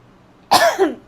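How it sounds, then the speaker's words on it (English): A single sharp cough rings out close up, followed by a quick second rasp, against near silence. "I feel like coughing nonstop right now."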